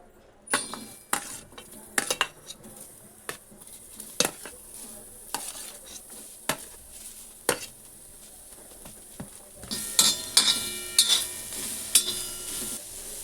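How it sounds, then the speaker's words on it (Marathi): Onion roasting in a pan for a Malvani chicken meal, with a light sizzle and repeated sharp spatula scrapes and clinks against the pan, close, growing busier toward the end. "लसूण आपली भाजली आहे मी काढून घेते कांदा भाजते"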